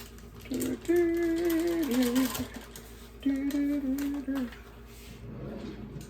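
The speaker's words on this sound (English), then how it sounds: "what I'm gonna do first is I'm gonna mix my butter." Softened butter for banana nut bread beaten with an electric mixer: a close, steady motor whine in two long runs separated by a short pause, with faint rattling around it.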